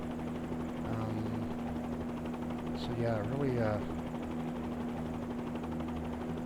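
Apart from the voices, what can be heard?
Bell 47 helicopter in Microsoft Flight Simulator video game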